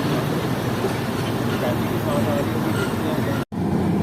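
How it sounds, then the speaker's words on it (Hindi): Khyber Mail passenger train approaching and crossing near Peshawar, a loud steady rumble of rolling wheels and engine noise that fills the whole stretch, with a brief sharp dropout near the end. "सामने से ही आ रही है 1 अप खैबर मेल"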